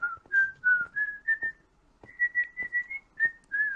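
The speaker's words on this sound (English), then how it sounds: "That whistling is really high pitch." High-pitched human whistling plays a short tune of quick tremulous notes in two phrases with a brief pause between, clear and close with no other sound.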